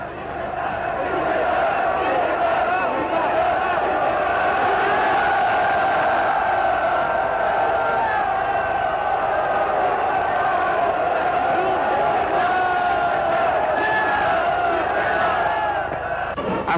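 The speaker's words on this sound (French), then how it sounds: "le chef de l'État reçoit les acclamations des anciens combattants, des cheminots et de la population accourue" A dense crowd of veterans, railway workers and townspeople in Roanne cheers and acclaims the marshal, a steady, loud roar of many voices lasting throughout with no breaks.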